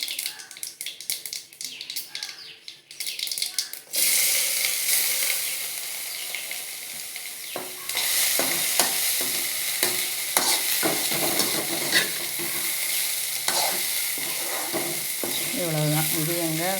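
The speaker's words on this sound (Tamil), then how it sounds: "அதில் கொட்டி வதக்க வேண்டியது தான்." Beans sizzle steadily in a hot pan while a utensil scrapes and stirs with repeated clattering taps, close up.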